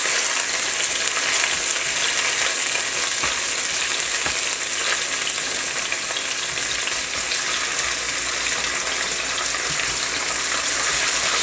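Garlic and ginger sizzle in oil in a stir-fry pan ahead of beef, a loud, continuous, hissing fry that holds steady with faint stirring scrapes and no talking.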